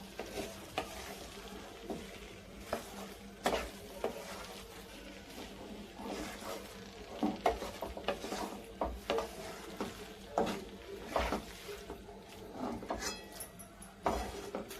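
Pasta being stirred with fresh coriander leaves in a sizzling pan, a faint, steady frying hiss broken by repeated soft scraping and clinking strokes of the spoon against the pan.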